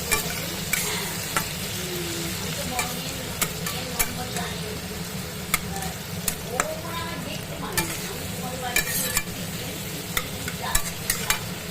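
Potato, eggplant and tomato frying in a wok, a continuous close sizzle broken by regular scraping clicks of a stirring spatula, with faint murmurs in the background.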